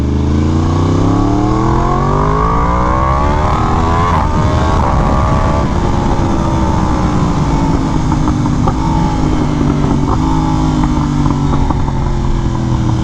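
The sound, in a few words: Yamaha R1M motorcycle exhaust revving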